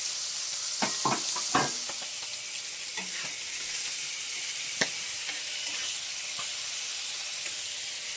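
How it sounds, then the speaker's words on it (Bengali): Prawns frying in oil in a kadai give a loud, steady hissing sizzle with a few sharp crackles and stirring clicks early on, then settle into an even spitting hiss. "এই দেখুন চিংড়ি মাছ ভেজে নিচ্ছি।"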